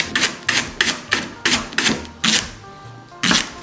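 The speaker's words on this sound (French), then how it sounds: "je vais juste couper le poireau en rondelles" A knife chops a leek into rounds on a cutting board, about nine sharp, evenly spaced thuds close to the microphone, each cut ringing briefly before the next, with a short pause near the end.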